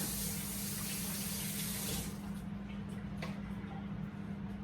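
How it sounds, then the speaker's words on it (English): Water from a kitchen tap runs steadily as hands are washed under it, a continuous close splashing rush with a low hum, with slight changes in the flow partway through. "Let me wash my hands real quick"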